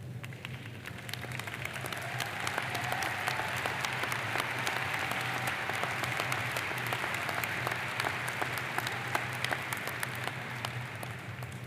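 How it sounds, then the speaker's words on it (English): Sustained, steady applause from a large audience at a university doctoral hooding and master's recognition ceremony, thanking the standing faculty, a dense even wash of many hands clapping without pause for over ten seconds. "Let's please thank the faculty with a generous applause."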